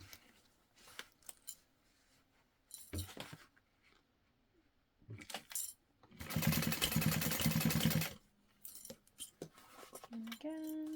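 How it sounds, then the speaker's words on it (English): A sewing machine stitching fabric pieces back to back in a quilting project, a fast steady whir lasting about two seconds amid intermittent handling clicks, snips and rustles, with quiet talk around it. "I'm just going to stitch these back to back and trim apart as I go"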